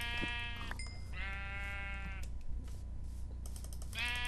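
Sheep in the blocky survival game Minecraft bleat in a few clear, drawn-out calls, close and distinct over a low background hum.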